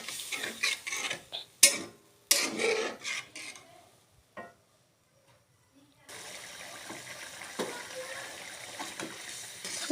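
A spatula scrapes and stirs masala in a pan for pabda fish curry after water goes in, with rasping bursts, a brief lull, then a steady sizzle.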